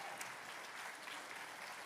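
Applause from a church congregation celebrating fathers, a dense, steady clatter of many hands clapping, fairly faint and at a distance, with no voices over it.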